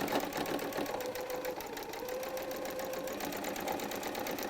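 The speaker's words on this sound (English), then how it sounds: "I'm letting this machine pull this along." A sewing machine runs steadily while stitching a kaleidoscope quilt block, a continuous even mechanical whir with rapid needle rhythm, close and moderately loud with no talk.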